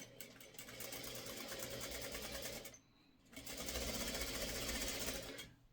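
A sewing machine stitches pre-cut quilt fabric pieces, including triangles, in two steady mechanical runs separated by a brief pause, close and clear with no talking.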